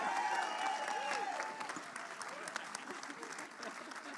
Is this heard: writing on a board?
no